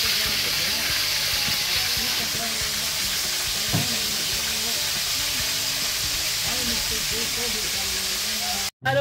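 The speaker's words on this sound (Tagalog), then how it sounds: "Prito ng isda." Fish fries in a pan with a constant bright sizzle and hiss of hot oil, close and loud throughout, with people talking faintly underneath.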